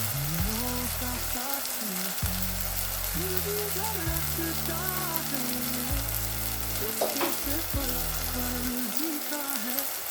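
Chilli powder and tomato frying in a pan for mutton sukka, a steady moderate sizzle under a louder background music track, with a brief stirring clatter near the end and no talk.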